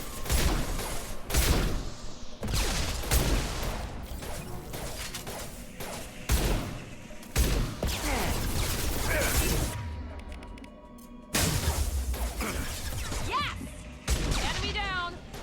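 Sustained gunfire and combat effects in the Mass Effect 2 video game, with repeated loud bursts and impacts crowding a busy mix, with voices speaking over the fighting.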